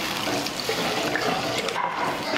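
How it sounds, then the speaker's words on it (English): Water poured into a pot of lamb and chickpea curry, a steady broadband splashing rush that runs continuously and close for a couple of seconds with no voice over it. "I'm also going to add the water."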